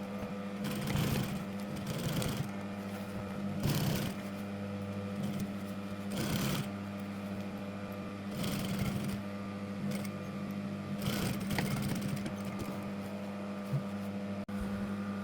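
A sewing machine stitching denim while turning regular jeans into maternity jeans, running in short whirring bursts about every two and a half seconds, each followed by a brief pause.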